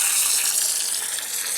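Water pours steadily into small indoor plant pots, a bright continuous splashing trickle heard up close with no talking.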